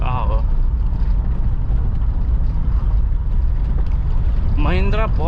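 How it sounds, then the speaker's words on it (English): A 2011 Mahindra Scorpio VLX engine pulls steadily in third gear at about 60 km/h, a loud continuous low rumble with road and wind noise; a voice speaks briefly at the start and again near the end. "Now I am at third gear and it's pulling currently at 60 kilometers per hour."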